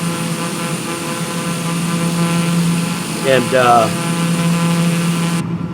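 A TBM turboprop aircraft drones steadily in flight, its engine hum running as a constant backdrop throughout while a voice speaks briefly over it.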